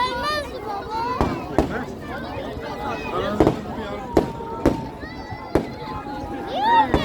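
Fireworks bursting at a public show in Karamürsel, with sharp separate booms about every second, while a child and adult chat and a crowd murmurs underneath.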